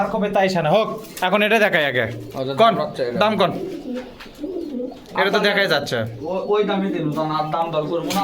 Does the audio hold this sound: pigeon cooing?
yes